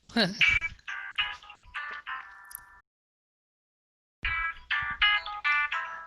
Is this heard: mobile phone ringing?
yes